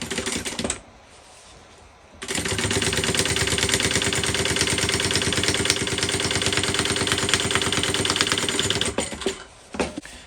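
A sewing machine stitching a tote bag runs in a fast, steady mechanical chatter for several seconds, close and loud, starting after a short pause and stopping near the end before a brief final burst.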